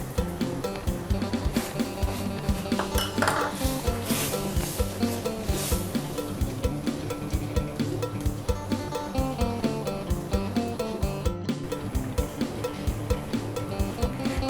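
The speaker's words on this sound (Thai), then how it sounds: "เดี๋ยวเราคนจนกว่าน้ำตาลมะพร้าวจะละลายนะคะ" Palm sugar stirred in a pan while it melts into pad thai sauce; rhythmic rubbing and scraping strokes repeat steadily for the whole stretch, close and fairly even in level, with a brief louder scrape near the end and no talking.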